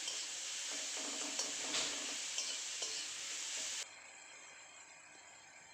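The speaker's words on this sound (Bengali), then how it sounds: "এখন এটাকে পাঁচ মিনিট মিডিয়াম আছে ভালো করে ভেজে নেব" Shrimp and polchatu frying in a pan, a bright continuous sizzle with stirring scrapes and small clinks, close and steady, then abruptly quieter for the last couple of seconds.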